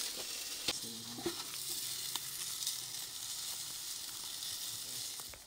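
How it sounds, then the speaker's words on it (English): Smoked sausages sizzle in a pan outdoors, a steady soft frying hiss with a few faint pops and clicks, moderately quiet and alone. "Got some mango tango and some of these smoked sausages."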